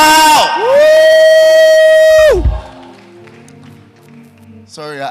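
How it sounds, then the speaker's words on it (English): A conference crowd shouting and cheering, loud sustained voices with a long rising and falling cry that fades to a lower murmur of the crowd before another shout breaks in. "Somebody give the Lord a big shout."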